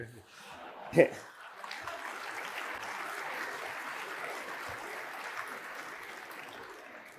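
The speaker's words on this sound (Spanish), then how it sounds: "no sé por qué aplaudís" Audience at a Spanish talk on housing prices breaking into sustained applause, a dense steady clatter of many hands lasting several seconds after a brief sharp sound at the start.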